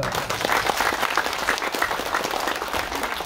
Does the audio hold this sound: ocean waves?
no